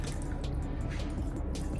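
A damp car wash sponge squeezed by hand, water dripping and squishing out in a soft, close, continuous wet crackle with faint dribbles and no voices.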